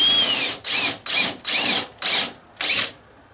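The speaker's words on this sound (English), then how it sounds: "we're going to drill it about 3/8 of an inch deep" A power drill whines in six short, even bursts, each with a rising pitch as the bit bores plug holes about 3/8 inch deep into wood for a glider swing, close and loud.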